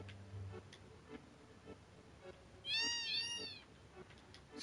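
A cat meows in Final Fantasy VII, a short run of rising and falling cries in the middle, heard over a quiet background of soft ticking game ambience.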